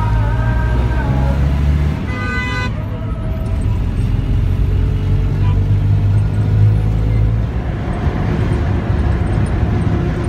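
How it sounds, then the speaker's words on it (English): Busy road traffic in Jos, Nigeria, rumbles past outside a moving vehicle, a steady engine drone with passing cars and brief tonal squeals, fairly loud and continuous. "Look at that, in the middle of this busy traffic."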